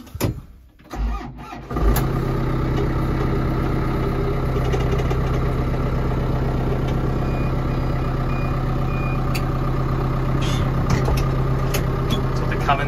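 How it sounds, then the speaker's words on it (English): A 2006 or 2007 Branson 6530C 65-horsepower diesel tractor engine starts with a short crank and settles into a loud, steady, close idle that drones on evenly. "this tractor's a 2006 or 7 Branson 6530C, so 65 horsepower"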